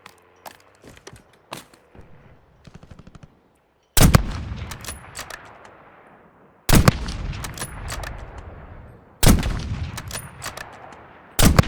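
Gunfire in a Call of Duty Warzone match in Verdansk: scattered light shots at first, then three loud sharp bursts of rapid fire a few seconds apart, each with a ringing decay.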